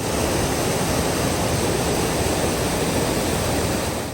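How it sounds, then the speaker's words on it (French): A waterfall at the Ras-el-Ma spring in Chefchaouen, a dense, even rush of falling water that sounds loud and close and holds steady throughout with no other sounds. "C'est tout ça la cascade."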